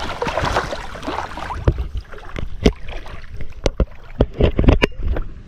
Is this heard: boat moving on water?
yes